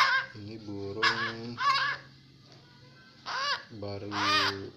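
Harsh, nasal calls of a captive wild kaok bird, in short bursts repeated several times at close range with brief pauses between them.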